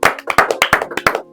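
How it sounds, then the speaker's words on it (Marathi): A short burst of hand clapping, about a dozen quick, crisp claps in an uneven rhythm from a small group nearby, loud and clear with no voices. "सो क्लॅप झाले पाहिजे टाळ्या."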